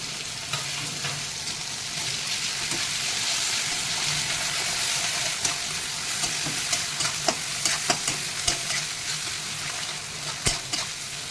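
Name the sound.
garlic frying in hot oil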